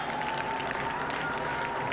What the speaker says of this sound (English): That's right, the Icelandic clap.